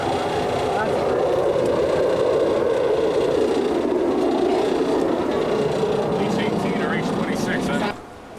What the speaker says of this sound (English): The air conditioner is making some kind of rattle